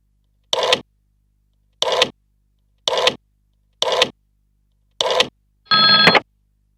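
A telephone rings out as a call is placed, five short evenly spaced bursts with silence between them, followed by a slightly longer final tone, all clear and close with no talking.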